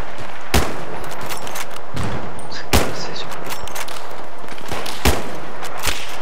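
Gunfire in a shooter video game, sharp loud shots spaced irregularly, some in short bursts, over a steady background of game ambience.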